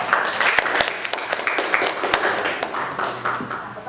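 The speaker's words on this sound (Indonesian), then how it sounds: "Kasih aplaus untuk kelompok 3" Applause from a group in a classroom during a teacher training session, with a few sharper individual claps breaking through a steady patter that fades slightly toward the end.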